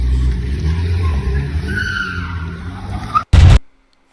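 A car skids through a sharp left turn, its tires squealing over a rumbling engine, then an abrupt loud burst before the sound cuts to silence.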